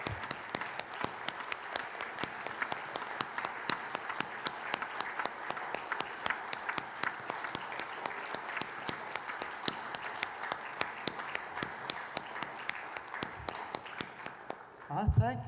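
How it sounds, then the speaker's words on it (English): An audience claps steadily after a talk by a WWII US Army veteran who served in Europe. The applause is dense and sustained, fairly distant and even, and fades out with a couple of louder bumps right at the end. "Well, maybe we'll give a round of applause,"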